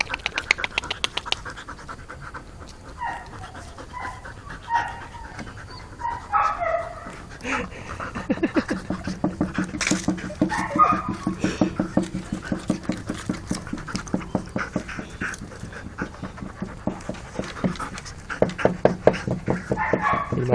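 A big young dog chews hard and pants rapidly at close range, with rhythmic wet gnawing and heavy breaths, plus occasional small whimpers.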